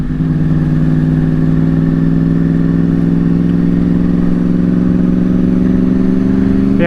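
A motorcycle rolling slowly behind a semi truck, its engine a loud, steady low drone at constant revs, close and unbroken, with a faint rising whine near the end.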